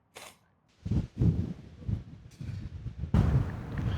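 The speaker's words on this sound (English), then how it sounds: "why is it so windy?" Wind buffets the microphone in rough, uneven bursts of low rumble, separated by brief quieter gaps, loud and close.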